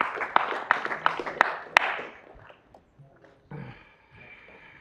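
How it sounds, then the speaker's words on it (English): A round of applause at a board meeting starts with a few sharp, distinct claps, thins out, then fades into low room murmur and faint shuffling. "Another round of applause."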